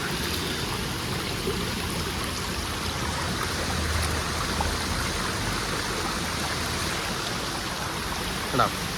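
A stream of cool water flows in a steady, even rush, close by and constant for the whole stretch, with a faint voice low in the background.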